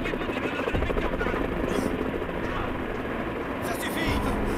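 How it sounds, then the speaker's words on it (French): Helicopter taking off in Final Fantasy VII Rebirth: a loud, continuous rotor thrum and engine roar fills the scene, with voices speaking over it. "L'hélicoptère vient juste de décoller!"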